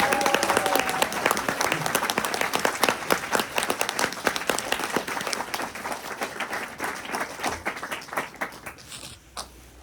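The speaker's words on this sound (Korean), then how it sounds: "박수! 박수!" Audience applauding at a corporate seminar, a dense wash of clapping that stays loud and then thins and fades toward the end.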